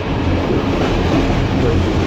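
An InterCity train runs through Budapest at night, passing Kőbánya alsó, with a steady loud rumble of wheels and carriage noise throughout.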